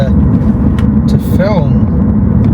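Heavy low road and tire roar from a tuned, stanced BMW M4 F82 on the move, a constant loud rumble with faint passing whistles overhead.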